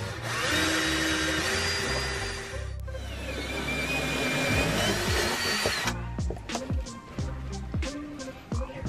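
Power drill boring through the metal floor of a Promaster camper van, a loud continuous whine that shifts pitch partway through, then gives way to scattered clunks and handling noises with brief voices.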